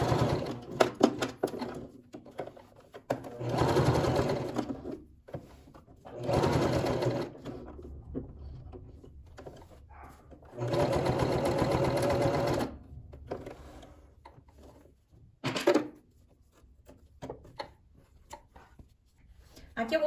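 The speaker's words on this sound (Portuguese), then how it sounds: "E aqui eu costuro minha etiqueta." A sewing machine stitches a label onto fabric for a handbag-wallet, running in several sustained bursts of a few seconds each, separated by quieter pauses with handling noise and faint background voice.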